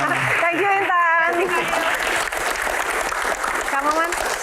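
Audience applause at an Indonesian Q&A session on disaster preparedness, a scattered round of clapping mixed with talk and a brief voice over it, moderately loud and close.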